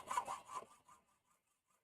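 A hacksaw cutting through material during a build, a few quick rasping back-and-forth strokes that start fairly loud and close, then thin out into faint, scattered scrapes before stopping.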